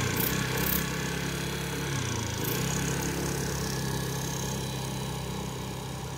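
A cheap scooter's small engine idles steadily nearby with a new carburetor, a continuous buzzing hum with a brief dip in pitch midway before settling back to an even putter.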